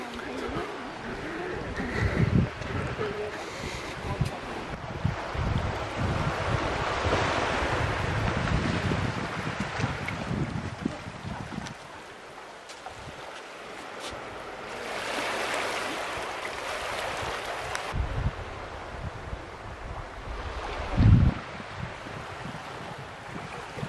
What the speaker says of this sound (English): Tide is slowly coming back in.